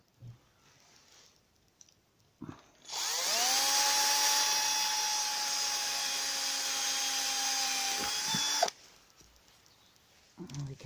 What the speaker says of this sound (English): I haven't got the right drill for it. I've got a masonry drill.